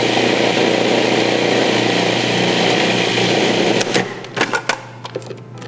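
A food processor chops cauliflower into rice with a loud, steady whirring buzz for about four seconds, then stops and gives a few short, uneven pulses.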